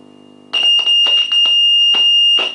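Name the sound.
beep from a signal injector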